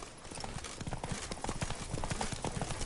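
Horse hooves clip-clopping in a steady trotting rhythm in The Witcher 3: Blood and Wine video game, close and fairly quiet, with faint voices in the background.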